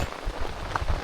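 Steady rain falling on a surface during a cool spell at a rural home where a house post is being replaced, a continuous dense patter with occasional heavier drops, no voices.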